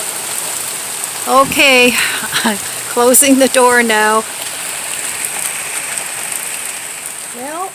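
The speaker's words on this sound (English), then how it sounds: "it is pouring" Heavy rain pours steadily outside a house in Ohio, a constant hiss under a voice talking.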